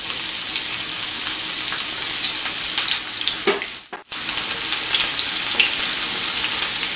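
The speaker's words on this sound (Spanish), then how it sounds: "Lo primero que vamos a hacer es poner a calentar la manteca. También puede ser aceite si no consumen la manteca. Y vamos a agregar la cebolla." Onion frying in hot lard, a loud, steady, broad hiss of sizzling close up that briefly dips and drops out for a moment before resuming, with no voices.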